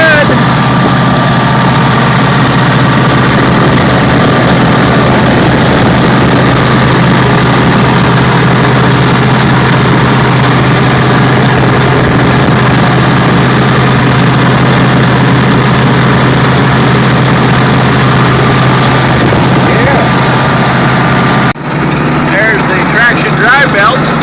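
A Massey Ferguson 300 combine engine runs at a loud, steady idle with its drive belts spinning, a constant low droning rumble held throughout, with a brief shift near the end.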